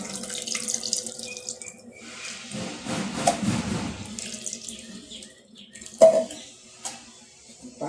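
Water poured from a vessel into soaked tamarind for a dried anchovy (nethili karuvadu) fish curry, a steady close splashing and trickling that swells midway, with a sharp clink near the end and no talking.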